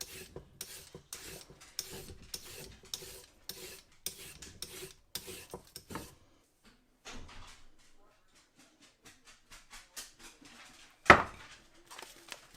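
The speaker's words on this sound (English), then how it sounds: "I'm going to start by peeling all the carrots." A peeler rasps rhythmically down raw carrots in a home kitchen. Quick, repeated scraping strokes come close, then stop, followed by a quiet pause and one sharp knock.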